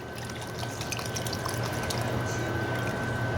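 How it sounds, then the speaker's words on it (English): Chicken broth from a 32-ounce carton poured into a pot of kielbasa vegetable soup, a soft steady splashing wash of liquid running continuously and fairly faint. "I'm going to pour the rest of my chicken broth in."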